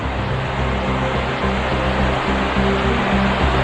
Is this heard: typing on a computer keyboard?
no